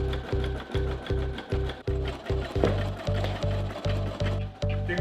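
A Brother embroidery machine stitches a design in close, rhythmic bursts of rapid mechanical thumping, separated by short pauses while the hoop shifts, and the pattern repeats steadily.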